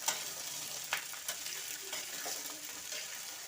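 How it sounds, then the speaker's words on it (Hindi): Vegetables fry in a pan with a continuous sizzling hiss while a spoon stirs, adding occasional scraping knocks against the pan. "इसको अच्छे से मिक्स करेंगे"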